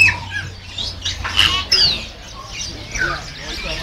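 Caged birds squawk and chirp at the Yuen Po Street bird garden in Hong Kong, a busy mix of sharp calls and tweets close and far, with people chatting in the background.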